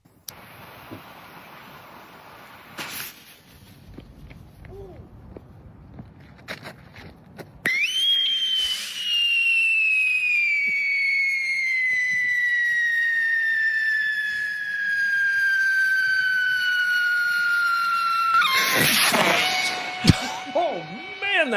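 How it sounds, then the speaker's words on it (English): A firework rockets upward with a long descending whistle lasting about ten seconds, ending in a loud burst, after quieter outdoor noise and faint voices at the start. "are we sure this firework was supposed to work like that?"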